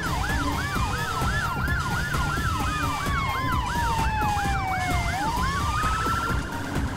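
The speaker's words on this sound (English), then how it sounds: "See how fast all the fire engines have to go down the road?" Fire engines racing down the road with wailing sirens, several overlapping tones sweeping up and down continuously over the loud rumble of traffic, close and sustained throughout.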